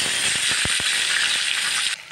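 Cumin, coriander, garlic paste, ginger and onion frying in oil in a pan for taki fish do-peyaja, giving a steady close sizzle with a few low knocks that cuts off abruptly near the end.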